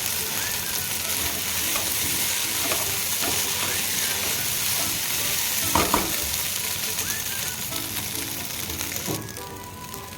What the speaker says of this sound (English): Now keep the flame in slow and start roasting the idli upma.